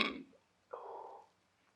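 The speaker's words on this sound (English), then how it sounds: "Kind of burp." A single short, low burp sounds close by, just after a brief voice fragment, in an otherwise quiet room.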